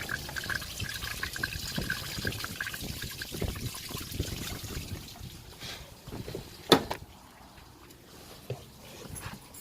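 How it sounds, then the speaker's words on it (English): Coolant trickles and splashes steadily out of a 1996 Toyota Corolla radiator at close range, with faint clanks and a brief sharp knock near the end. "Okay, and we are pouring out of there."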